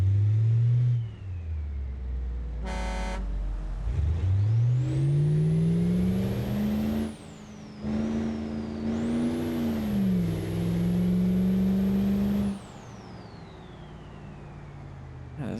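Truck engine in the BeamNG driving game, a steady droning rumble that rises in pitch as it accelerates and climbs, with whining gear tones and a few brief gaps.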